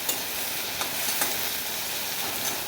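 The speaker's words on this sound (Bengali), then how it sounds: "পেঁয়াজটা আমি লাল লাল করে ভেজে নেব" Onions frying in oil in a pan, a loud, close, continuous sizzle and crackle with faint stirring scrapes and no voice.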